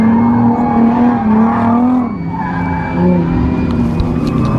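A car's engine whines at a car show in Nashville, Tennessee, a sustained high whine with shifting tones at close range, surging briefly, with no voices over it.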